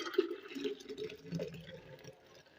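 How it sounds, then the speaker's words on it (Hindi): Freshly ground milk soda being poured into a jug, as a short gurgling, splashing liquid stream that is close and moderately loud, with no talking. "इसको एक जग ले लिया, उसमें डालेंगे ऐसे"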